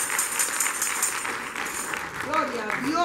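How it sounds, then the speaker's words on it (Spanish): A church congregation applauds in a broad, steady wash of clapping that runs through the whole stretch, with voices and a sung or called-out phrase rising over it toward the end. "denle un aplauso al Señor"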